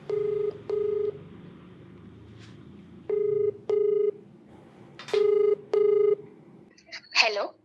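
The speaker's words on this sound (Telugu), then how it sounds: "సో మరి ఒకసారి కాల్ చేసేస్తానండి లేట్ చేయకుండాను." A telephone call is dialed as six short, clear keypad tones sound in pairs over quiet room noise, followed by a brief burst of voice or ring at the end.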